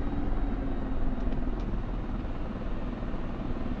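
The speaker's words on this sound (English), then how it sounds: "Stop the helicopter" A Mi-24 Hind helicopter in the DCS flight simulator, a dense, steady low rotor and engine drone that runs continuously, close and loud, with no talk over it.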